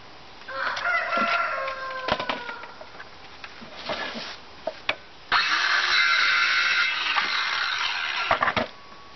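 A rooster crows close by in several bursts, with scratchy calls and short gaps between them.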